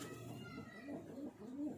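A flying pigeon coos softly in a repeated rolling rhythm, three or four quiet calls close by in a calm setting.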